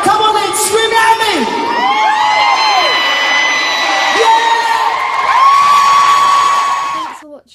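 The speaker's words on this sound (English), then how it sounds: "Come on, Leeds, scream at me." A large concert crowd in Leeds screams and cheers loudly and continuously, high-pitched shrieks and whoops rising and falling throughout before cutting off at the end.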